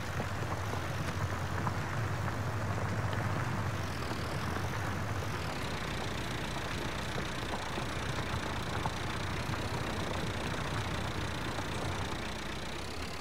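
A tractor engine drones steadily while plowing in the farming video game Farm Simulator 19. The dense mechanical rumble runs unbroken, and its pitch shifts slightly partway through.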